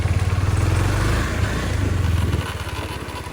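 A Suzuki 125 motorcycle with an SC Project exhaust during a wheelie, its engine giving a loud, close, throbbing pulsing drone that steadies into a lighter rhythmic putter.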